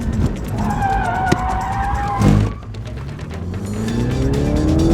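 A BMW at a performance driving school drifts on track, tires squealing in a wavering whine over steady engine roar, with a brief louder burst midway and another car's engine rising near the end.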